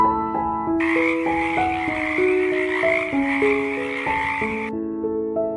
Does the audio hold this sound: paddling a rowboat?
no